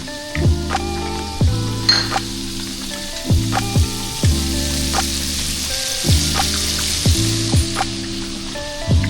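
Dinner fries and sizzles in a pan, a steady close hiss broken by occasional clinks and stirring sounds, with no voices.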